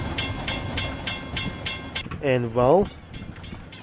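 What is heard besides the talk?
RO-scale model train climbing uphill on rails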